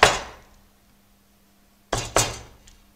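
A wood carving gouge is struck for a shallow cut on a carved fret pattern, giving three sharp wooden knocks: one alone, then a quick pair after a short pause, close and crisp with no talking.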